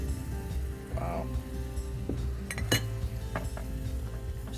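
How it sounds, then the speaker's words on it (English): A whisk clinks and scrapes against a bowl during venison recipe preparation, with steady metallic tapping and rattling close by over a low background hum and occasional faint voices. "So you're just gonna sit here and whisk."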